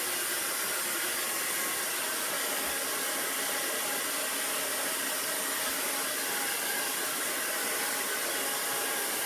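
Hair dryer blowing steadily during a men's haircut, a continuous loud broadband whoosh that holds unchanged throughout with no voices over it.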